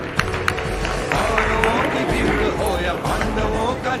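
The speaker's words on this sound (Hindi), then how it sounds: "सुनील सर के लिए जोरदार तालियां आप सबकी तरफ से होनी चाहिए।" An audience at an event applauds as a speaker is invited to the stage, a busy, sustained patter of clapping mixed with crowd noise and voices throughout.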